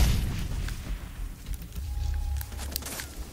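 A grenade goes off in Far Cry 3, a deep rumbling boom that rolls on for a few seconds, followed by scattered smaller cracks and debris clatter.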